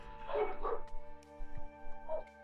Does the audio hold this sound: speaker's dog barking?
yes